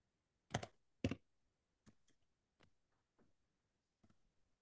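Typing on a computer keyboard during a late-night trigonometry lesson, with two loud close keystrokes followed by several softer, spaced clicks in an otherwise quiet room.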